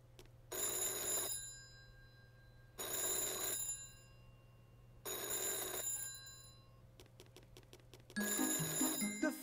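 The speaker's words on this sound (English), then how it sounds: "Phone is ringing. I wonder who is calling." A telephone rings in the My Friend Peppa Pig video game: three evenly spaced bursts of bright electronic ringing with short silent gaps, then a fourth burst joined by clicks and a soft musical tone, loud over a quiet hum.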